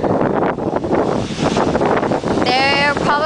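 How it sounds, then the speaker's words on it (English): Ocean waves breaking on a deep-water beach in Cabo San Lucas, a loud continuous wash of surf heavily buffeted by wind on the microphone, with a brief high whistling tone near the end. "These are the waves in Cabo San Lucas."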